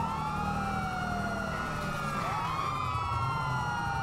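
In GTA V, a police vehicle's siren sweeps in a steady wail over a constant engine and road drone, holding loud and continuous for the whole few seconds with no talking.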